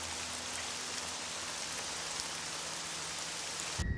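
Steady rain falling, a dense even hiss of drops that continues without a break before cutting off abruptly at the end, with no voices.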